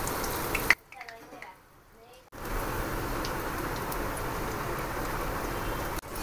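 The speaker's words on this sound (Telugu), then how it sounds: "ఇప్పుడు బ్రెడ్ ఇలా వేసుకొని గోల్డెన్ కలర్ వచ్చే వరకు" Bread slices frying in hot ghee for double ka meetha, a steady crackling sizzle that cuts out briefly near the start and then returns strongly, continuing to the end with no voices.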